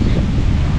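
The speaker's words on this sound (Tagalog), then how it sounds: "Ba't ang lakas ng hangin masyado?" Strong wind blasting across an open-air microphone, producing a loud, steady, low rumbling roar that never lets up, with no voices.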